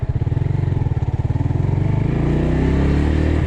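A Geon GNS 300R motorcycle running without a muffler: a loud, close, rapid throbbing exhaust beat that smooths into a steadier, higher drone as the engine revs up.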